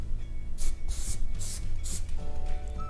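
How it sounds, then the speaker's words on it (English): Moveable hairspray misted onto a ponytail in four quick, hissing bursts close to the microphone, each lasting about a quarter second and evenly spaced, with no talking. "And you can go in with the Moveable hairspray."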